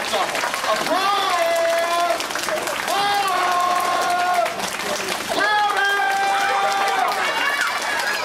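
An audience at a children's summer camp magic show applauds steadily, with overlapping cheers and high excited voices riding over the clapping throughout.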